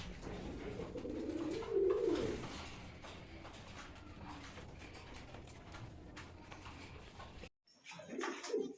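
Pigeons coo in a low, throaty burst near the start, followed by a steady background of rustling and ambient noise, with a short separate sound at the end.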